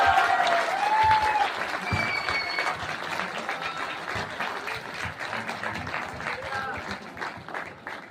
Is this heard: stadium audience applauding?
yes